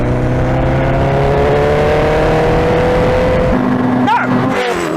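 A Koenigsegg Jesko hypercar and a tuned Suzuki Hayabusa motorcycle accelerate hard in a drag race, loud engine notes climbing steadily in pitch before a sharp gear change and the next rising surge.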